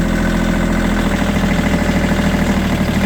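A tractor engine idles steadily nearby, a continuous low mechanical chug with a pulsing rhythm and rattling vibration and no talk over it.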